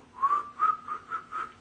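A person whistles in imitation of wind, producing four short swooping whistles in an even, pulsing rhythm, close and clear with no talking.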